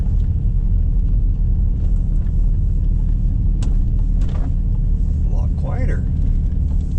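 An Infiniti car rolls over road bumps, with a steady loud low rumble of road and engine noise throughout and a few brief thumps and knocks from the suspension, while a person talks over the drive.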